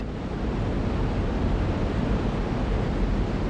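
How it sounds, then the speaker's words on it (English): Water thunders down a waterfall beside the hurricane deck, a loud, steady roar of rushing water that fills the air with broad, unbroken noise and no voices. "With a short climb, you can get right up next to the falls and get pretty wet too."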